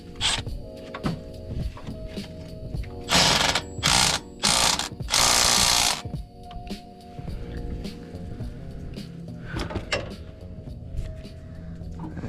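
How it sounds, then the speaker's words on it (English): Repeated ratchet clicking while tightening on a GMC Sierra 5.3 truck engine, close and mechanical, with several louder bursts of rapid clicking in the middle and steady engine-bay background noise throughout. "Get a ratchet on there, just making sure."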